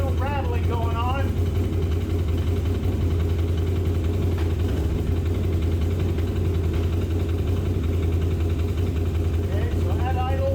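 A four-wheeler ATV engine idles steadily after a one-way clutch repair, a constant low rumble throughout with no rattling, while a person talks briefly at the start and again near the end.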